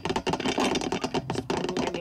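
Fingernails tapping on a glass table, a quick run of sharp, close clicks in an uneven rhythm with a short pause before the tapping resumes.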